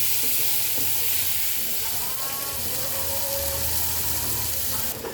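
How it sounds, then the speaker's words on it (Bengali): Chopped onion frying in oil with bay leaf, dried chilies and whole cumin gives off a dense, continuous sizzle and hiss, close and loud throughout, with faint faraway sounds underneath. "পেঁয়াজটাকে সুন্দর করে ভেজে নেব।"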